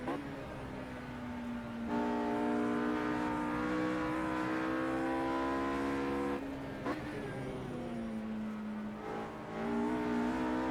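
Race car engines in the Project CARS racing game at Brands Hatch GP circuit, a sustained moderately loud engine drone rising and falling in pitch with shifts, continuous across the clip.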